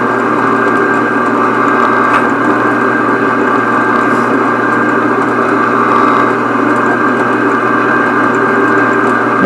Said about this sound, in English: That's drilling quite nicely so far.